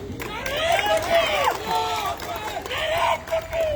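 A large crowd at an Ittehad political rally at Khilwat Ground near Charminar chants slogans in unison, many raised voices rising and falling in loud, continuous waves that fill the open-air gathering.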